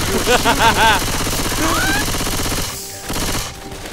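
Rapid gunfire in a zombie-survival video game mod, bursts of automatic shots early on, then a rising whine and more scattered firing, with voices and game sounds mixed in.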